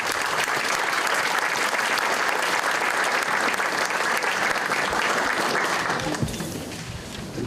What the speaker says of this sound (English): I wonder if you'd join me in a round of applause.